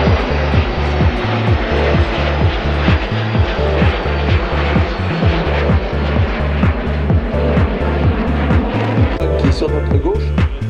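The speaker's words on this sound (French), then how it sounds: "Derrière, un avion à hélice." A propeller airplane passes overhead at a French air base, its engine throbbing loud and close in a rapid, steady pulsing drone for the whole stretch.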